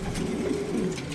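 Pigeons coo softly and continuously, low throaty calls overlapping nearby with no voices.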